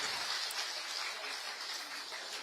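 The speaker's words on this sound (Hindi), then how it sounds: "जिसको जबरदस्त तालियों के साथ हमें सेलिब्रेट करना चाहिए।" Audience applause at a women's honour ceremony in Dehradun on International Women's Day, a dense, fairly distant and moderately quiet wash of clapping that holds steady from start to finish.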